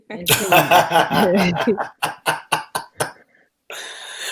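A person coughs in a rapid string of short, harsh bursts after some laughing and chatter, close to the microphone, followed by a brief pause and then steady background noise.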